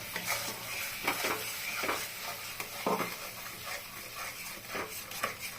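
A spice paste of ground cashew and melon seeds is stirred in a pan as part of a paneer biryani. A spoon scrapes against the metal in a few distinct strokes over a low, steady sizzle, close by.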